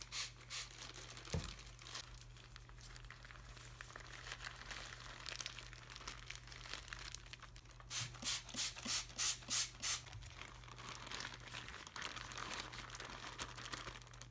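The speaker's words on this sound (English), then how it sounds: "you'll need to add just enough water so that it mixes with all the powder, but not too much so that it becomes watery" Porcelain powder and water being mixed by hand inside a plastic bag make continuous soft crinkling and squishing, close up, with a burst of rhythmic squeezes near the end and no talk.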